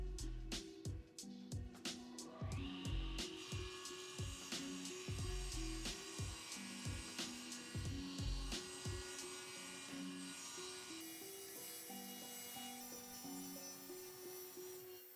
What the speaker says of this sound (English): I'm going to cut diagonally through here, 40mm at the bottom, and I think it's about 60mm at the top